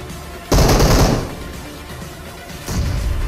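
Gunfire in the PUBG Mobile game, with a loud, dense burst of automatic shots followed by a second burst a couple of seconds later.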